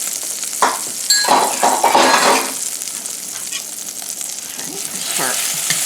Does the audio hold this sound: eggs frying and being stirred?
yes